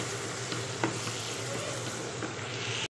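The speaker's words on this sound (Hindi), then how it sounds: "थोड़ा सा इसके साथ फ्राई कर लेंगे।" Chicken with spice paste frying in a pan for chicken makhani, an even continuous sizzle with faint stirring scrapes, close and moderately loud, with no one speaking.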